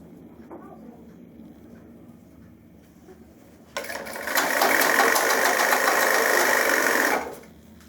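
An electric sewing machine stitching a trouser seam starts abruptly and runs at a steady, buzzing whir for about three seconds before stopping, preceded by quiet handling noise.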